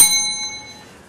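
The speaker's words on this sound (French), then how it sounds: "Le début de cette période vous sera annoncé à l'aide de cette cloche." A single handbell struck once at a university competition, ringing out with a bright metallic tone that decays quickly and cleanly, heard alone with no talk.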